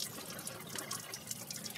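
Water runs and trickles steadily out of a Ford 300 4.9 inline-six engine during head removal for a head gasket change, a close, continuous splashing and dripping with no talk.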